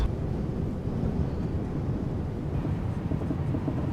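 Strong force 5 wind buffets the microphone outdoors in a constant, heavy low roar with no break, loud and close.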